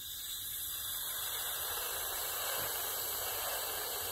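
Compressed air hissing through a 6.0 Powerstroke IPR valve on a bench test, a steady, faint high-pitched whistling hiss that holds constant throughout with no talking.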